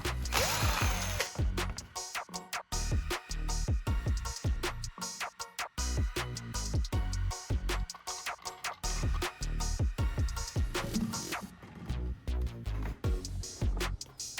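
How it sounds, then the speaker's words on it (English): A small hole is drilled into a plastic bottle cap, giving a dense run of rapid, ratcheting mechanical clicks and grinding. The sound is loud, close and continuous, with no talking. "Start by drilling a small hole in the bottle cap."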